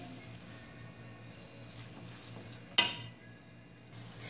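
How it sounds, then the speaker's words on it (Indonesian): Indomie instant noodles with vegetables are stirred in a pan over soft sizzling. A sharp metallic scrape or clink of the utensil against the pan stands out midway. "Terus itu kita di aduk sampai meresap ya bumbunya di dalam mie-nya."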